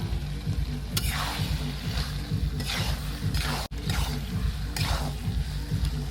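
Fried potatoes going into a sizzling village-style spicy masala pork curry: a loud, dense, continuous sizzle with recurring swishing pulses as the pot is stirred, heard close with no talking.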